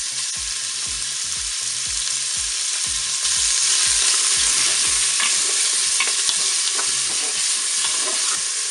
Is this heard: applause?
no